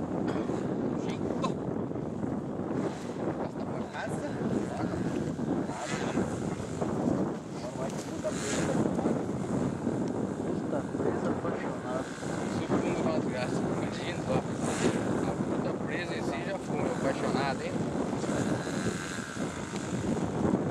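A model Tucano airplane takes off on a windy field in Ourinhos, São Paulo, its propeller motor droning steadily under heavy wind buffeting on the microphone, while people talk nearby.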